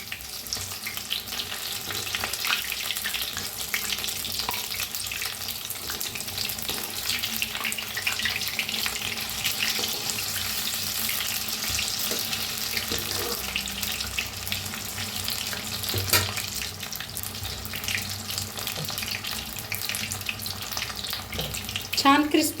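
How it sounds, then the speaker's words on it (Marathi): Onion and potato pakoras deep-fry in a pan of oil while being turned, producing a long, even, bubbling hiss close by with occasional light clinks and scrapes throughout. "आता फिरवून तळून घेऊया।"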